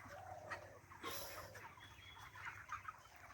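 Chickens clucking inside a small poultry farm of about 2,200 birds, a dense chorus of hens with scattered louder squawks over a steady low hum, fairly close and continuous throughout.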